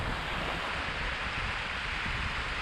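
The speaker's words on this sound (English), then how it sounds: "I don't know how well you can hear me here with the stream and the wind and everything" Mountain stream rushing and wind gusting on a hiking trail in the Canadian Rockies, a loud, continuous broadband roar that stays steady throughout, close to the microphone, with no speech.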